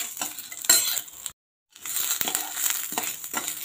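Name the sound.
urad dal being dry-roasted in a pan with oil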